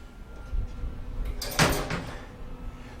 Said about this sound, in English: So just open the lid